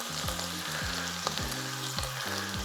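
Beef sizzling in a hot frying pan for a yakitori-style dish: a steady close hiss of frying, with a few soft scrapes and bumps from stirring and no speech.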